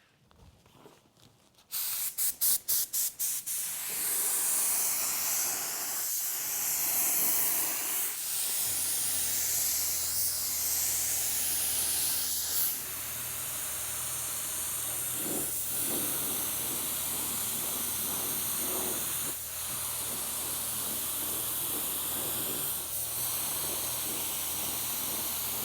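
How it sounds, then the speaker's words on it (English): Spray gun laying clear coat onto car bodywork, a steady loud hiss of atomized paint running almost continuously after a few quick trigger bursts at the start, with brief dips as the gun pauses. "So we're going to get ready to spray clear on this thing."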